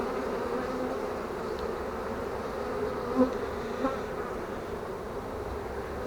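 Honeybees buzz steadily around their hives during early autumn preparation, a continuous dense hum of many insects close by with a couple of brief louder passes.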